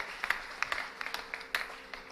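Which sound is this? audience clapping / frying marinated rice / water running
audience clapping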